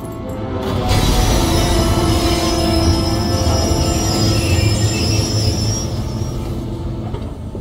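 Hitman 3 video game train brakes, steel wheels squealing in high sustained shrieks over a heavy rolling rumble that fades near the end; no talking.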